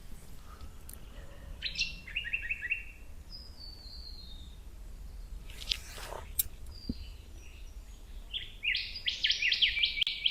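Birds chirp in a forest, scattered bright calls and short trilled phrases near and farther off, with a faint low background hum and a louder burst of song at the end.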